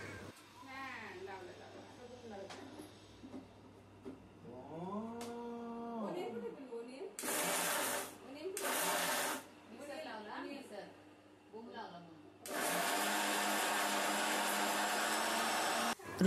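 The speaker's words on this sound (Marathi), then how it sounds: "आम्ही तोपर्यंत मिक्सरमधून जे आहे तर ते वाटण करून घेते" An electric mixer grinder whirs in a home kitchen while grinding masala paste, in several short loud bursts and then one longer run, with someone talking quietly in between.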